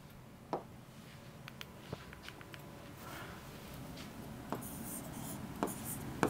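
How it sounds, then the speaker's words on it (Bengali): Pen or chalk strokes scratch out a run of short, light marks at an irregular pace, close and fairly quiet, during a Bengali grammar lesson, with no talk. "আমি হচ্ছে লিখে দেখাচ্ছি"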